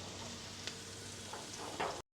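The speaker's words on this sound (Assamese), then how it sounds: "দিম লং ইলাচি ডালচেনি গোটাকৈ দি দিছোঁ। অকণমান ৰঙচুৱা হোৱালৈকে ভাজি ল'ম এইখিনি।" Whole spices, cloves, cardamom, cinnamon and bay leaf, sizzling in hot oil over a wood fire, a soft steady crackle with a few sharper pops before cutting to silence.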